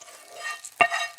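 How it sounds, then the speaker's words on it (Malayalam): Fried coconut goes into a jackfruit erissery curry and gets stirred: a soft sizzle with one sharp scrape or clink of the spoon partway through, close and brief, with no voices. "നമ്മുടെ വറുത്ത തേങ്ങയൊക്കെ നമ്മുടെ കറിയിലേക്ക് അങ്ങോട്ട് ഇട്ടേക്കാം."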